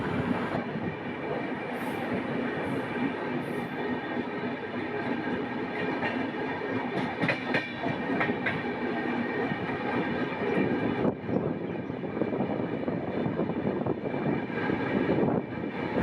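A Shatabdi Express train rolls through Bolpur station, heard from on board as a steady, continuous rumble of wheels and carriage noise with faint clattering accents.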